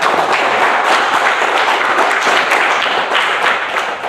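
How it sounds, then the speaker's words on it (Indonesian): Sustained applause from a classroom audience, dense and steady throughout with many hands clapping close by, tapering slightly toward the end. "tepuk tangan dulu untuk kita"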